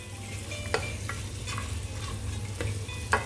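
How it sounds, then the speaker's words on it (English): Onions sizzle steadily in a hot pan while a utensil stirs and scrapes a few times, with no talking. "Now whilst our onions are frying away"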